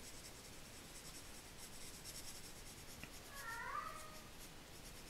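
A single pet cat's meow, a short rising call around the middle of the clip, rising out of a steady hiss of indoor room tone.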